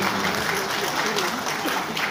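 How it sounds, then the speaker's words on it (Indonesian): Applause from an audience at the PEPABRI national congress (Munas XVI, 2022), a dense, steady wash of clapping that fills the whole stretch without pause, with voices faintly mixed in underneath. "Kita beri tepuk tangan ya."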